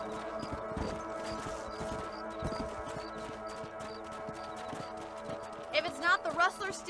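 Horse hooves trot in a western video game, a steady clip-clop under continuous background music and ambience, with a brief whinny-like flourish near the end.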